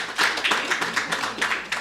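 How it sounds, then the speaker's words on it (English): A gathering at a student general council claps in a short round of applause: dense, irregular hand claps at steady loudness for about two seconds. "Could we give them a round of applause as they leave?"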